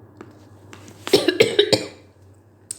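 A person coughs in a quick close cluster of four or five harsh bursts after nearly choking, preceded by a faint throat sound and followed by a lone soft cough.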